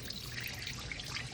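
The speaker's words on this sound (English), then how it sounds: "So we'll pour that out." Pre-soak water is poured out of a film developing tank, a steady close trickle and splash of liquid running through the whole short moment with no talk.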